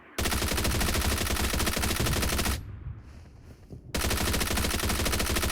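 Automatic gunfire in the mobile game PUBG Mobile comes as loud, rapid, sustained bursts, with a short pause of quieter clatter partway through before the firing resumes.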